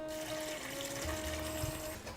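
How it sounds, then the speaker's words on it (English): Cold tap water runs steadily over frozen seafood in a kitchen sink, a continuous close rushing and splashing with a faint tonal whine throughout. "open it up, and just get it running under cold water."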